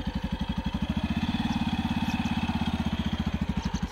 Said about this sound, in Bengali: আপনারা দেখতে পাচ্ছেন রাজু ভাই বাইক স্টার্ট দিয়ে দিয়েছে।